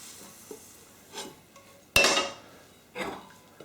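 Spanish tortilla de patatas with chorizo slid out of a frying pan onto a plate, a few soft scrapes and thuds with one sharp metallic clank of the pan, close and brief, no talking.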